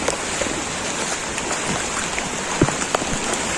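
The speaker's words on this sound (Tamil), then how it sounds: "நன்றாக மழை பெய்து கொண்டிருக்கிறது கடுமையான மழை" Heavy monsoon rain pours down steadily in Chennai, a dense, loud hiss of drops hitting surfaces, with a few sharper splashes standing out nearby.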